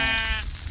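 A single short sheep bleat from Minecraft with the SevTech Ages modpack, close and fairly quiet, fading out quickly.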